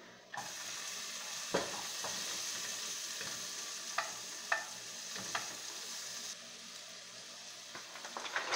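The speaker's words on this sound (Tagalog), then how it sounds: "Pagluto na po yung ating ginger tsaka yung garlic, lagyan na po natin yung onion." Ginger, garlic and onion sauté in a pan with a soft, continuous sizzle, broken by occasional clinks and scrapes of a utensil against the pan, no talk.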